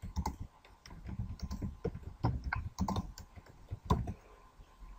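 Rapid, irregular keystrokes on a computer keyboard as a channel name is typed, a close run of sharp clicks and clatter with no talking.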